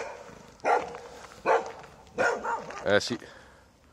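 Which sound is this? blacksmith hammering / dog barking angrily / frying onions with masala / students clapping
dog barking angrily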